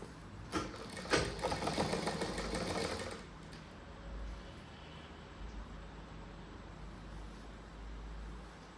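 A sewing machine stitches a cross-cut blouse in a quick, rattling burst of about three seconds, then stops, leaving a quiet room with low background hum.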